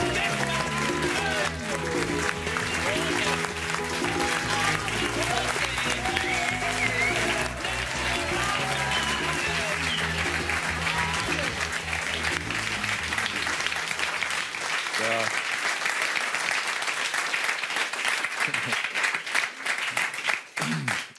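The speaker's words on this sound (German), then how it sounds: "Freut euch bitte mit einem riesigen Applaus" A studio audience at a comedy pub show bursts into loud, sustained applause with dense clapping and cheering that carries on for about twenty seconds before thinning out.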